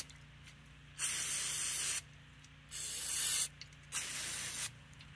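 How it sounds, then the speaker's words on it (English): An aerosol can sprays onto the front brake parts of a Dodge Charger during a pad and rotor replacement, in three close hissing bursts of about a second each, separated by short pauses. "Now, I'm going to spray them here just a little bit more."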